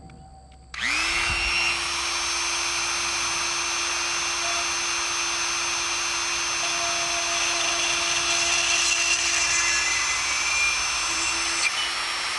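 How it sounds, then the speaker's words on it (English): A power drill bores holes through a body held in a vise, starting abruptly after a brief pause and then whining at a steady, loud pitch close by for the rest of the stretch. "what we're going to do now is drill the hole for the wire for the arms and the legs"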